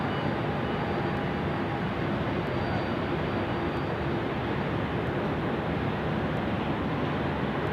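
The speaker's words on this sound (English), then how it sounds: "Our Indonesian friends now coming out to play as well. A330-300 for your troubles." An Indonesian airline's Airbus A330-300 jet at Sydney Airport produces a constant broadband roar with a faint whine, steady and moderately distant.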